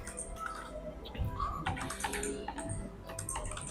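Fingers type on a computer keyboard while someone codes a Node.js and TypeScript project, a quiet, steady stream of rapid key clicks with small irregular bursts and no speech.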